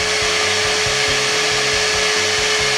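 A hair dryer powered from a WATTCYCLE 314Ah battery runs loud and steady, a constant airy whoosh with a mechanical pulsing hum underneath and no talking.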